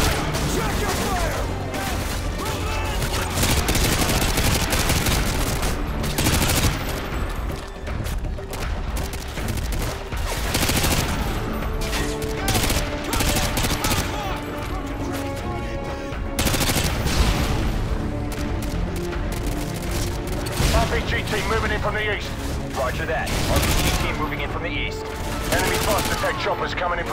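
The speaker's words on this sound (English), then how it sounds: "We got 240s and RPGs at the dining room window, plus L86 machine guns." Rapid machine gun fire and other gunshots from a Call of Duty: Modern Warfare 2 battle, with L86 and 240 machine guns firing from a house window toward a tree line. Bursts are loud and near, dense throughout, with radio voices talking over them.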